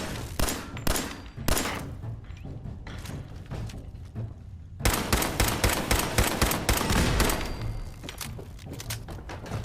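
Dense, loud bursts of gunfire from the Fallout 4 video game, with rapid overlapping shots and heavy thuds that continue almost without a break, and a short lull midway.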